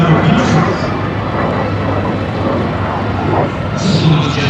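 A de Havilland Vampire jet roars past during an air show demonstration, a steady broad engine rush under ongoing commentary, with a voice speaking throughout.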